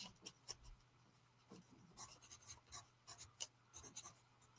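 A pen scratches across paper in short, quick strokes, faint and close, with irregular bursts of scribbling and a steady low hum beneath.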